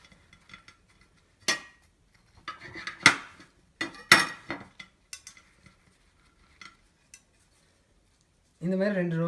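Knife work on a paneer bhurji wrap roll being cut in two brings a scatter of sharp clicks and scraping knocks against a plate or board, separated by quiet gaps, before a voice starts speaking at the end.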